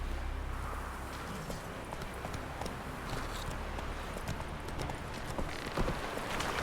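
Steady clip-clop of hooves from Roach, the horse in The Witcher 3, trotting at an even pace over a continuous low outdoor rumble, with no talk.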